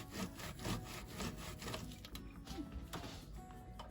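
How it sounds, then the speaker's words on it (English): Plant-based roasted garlic lentil cheese is grated by hand, giving a continuous close rasping scrape in quick repeated strokes with no talking. "the second way we can use our cheese is by just grating it. It grates pretty well."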